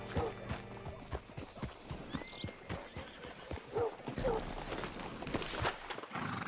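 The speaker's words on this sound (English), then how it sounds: "Hitch your horse up here." Horse hooves clip-clop in an uneven rhythm nearby in Red Dead Redemption 2, with a brief whinny and faint background ambience, no speech.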